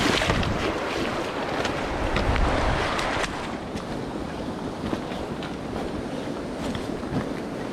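Shallow stream water swishes and splashes steadily as someone wades across on a winter morning in Western North Carolina trout country, close and continuous with wind buffeting the microphone, no talking.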